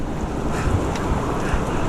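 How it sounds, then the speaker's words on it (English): Swift, fast-flowing water of the Truckee River off Highway 80 in California, a loud steady rushing wash mixed with wind buffeting the microphone, with no speech. "I gotta get him out of that fast water."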